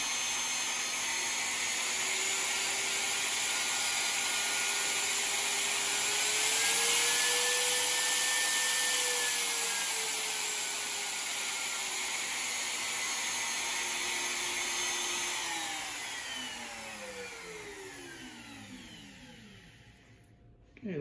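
A wood router motor runs at its low setting on a variable speed controller, a steady whirring whine that drifts up and down in pitch, then spins down and fades out near the end.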